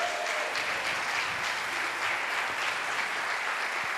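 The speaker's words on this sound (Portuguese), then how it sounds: "E quem pode aplaudir o nome do Senhor?" Church congregation applauding together during a Baptist worship service, steady dense clapping that fills the whole stretch without a break.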